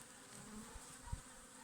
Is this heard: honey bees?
yes